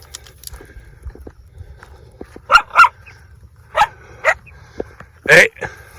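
Dog barks several times in short bursts, loud and fairly close, with pairs of sharp yelping barks between quieter pauses outdoors.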